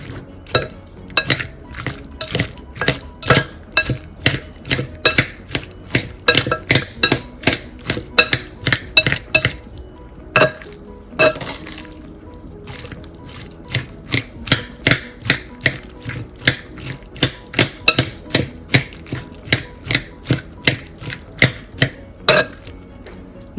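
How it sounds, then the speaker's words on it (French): Two knives work in opposite directions chopping vegetables for kafteji, a fast, steady run of sharp metallic chops against a board, close and loud, with one brief pause midway. "j'utilise 2 couteaux et je vais les utiliser à contresens pour couper mes légumes"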